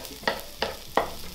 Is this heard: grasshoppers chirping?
no